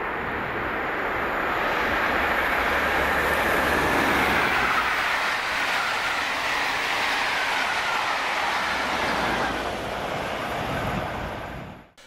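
A train rushing past close by at Curry Hill, Scotland, hauled by locomotives 47826 and 802, a loud sustained roar of wheels and engine that swells, holds, then drops away abruptly.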